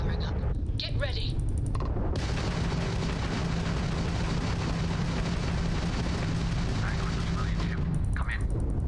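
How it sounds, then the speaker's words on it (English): Spaceship weapons fire in a space combat sequence in Starfield: a dense, sustained roar of rapid energy shots running steadily for several seconds, with brief quieter moments at the start and end. "The ship's weapons are powering up."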